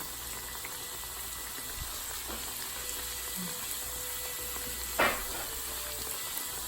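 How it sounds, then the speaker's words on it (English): Steady hiss and crackle of cheese empanadas frying in hot oil in a pan, continuous and close, with a brief clatter midway. "Fry the cheese ones first, just so you guys can see."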